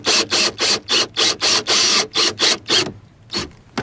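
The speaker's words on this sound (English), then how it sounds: "I'm going to install the number 8x5/8 pan head in the hole to lock the joint into place." A drill with a number 2 Phillips bit drives a number 8x5/8 pan head screw into metal on a boat's leaning post. It whirs in about ten short, rapid, evenly spaced bursts, then pauses before two more brief pulses.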